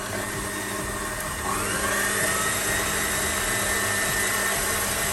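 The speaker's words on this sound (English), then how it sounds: "Let's just increase the speed of our blender." Blender whirs as it mixes eggless chocolate peanut butter cake batter, a loud steady motor drone whose pitch rises as the speed is increased, running alone without voices.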